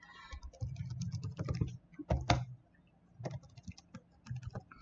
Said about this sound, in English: just so we get the practice of typing this code from scratch.